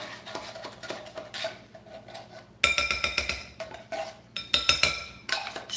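A utensil scrapes and clinks against a bowl in a kitchen while pie filling is prepared, with repeated scrapes and sharp metallic knocks that grow louder and busier midway, close up and without speech.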